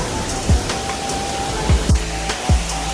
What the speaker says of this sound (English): The first little waterfall that we encountered.